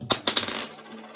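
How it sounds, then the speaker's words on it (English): Several dice thrown onto a hard surface give three quick sharp clatters that settle into a short fading rattle, close and fairly loud, with no voices. "when I throw the dice"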